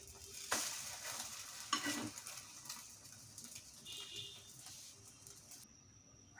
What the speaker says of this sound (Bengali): আমি একটা ডিম ভেজে নিচ্ছি এর ভিতর